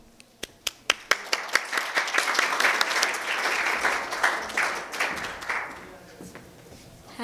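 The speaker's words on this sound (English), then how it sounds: "let's give a round of applause to Malavika." An audience at a welcome-remarks event bursts into applause: a few scattered claps build quickly into dense, sustained clapping that then thins and fades out.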